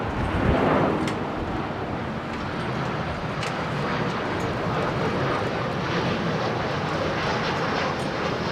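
A jet airliner in retro livery descends on approach at a windy Heathrow Airport, its broad engine roar steady and fairly loud throughout, with gusts buffeting the microphone.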